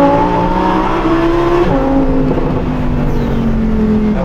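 Lamborghini Huracan Tecnica V10 accelerating hard from inside the cabin, a loud continuous engine roar climbing through the gears with a brief shift break, no voices.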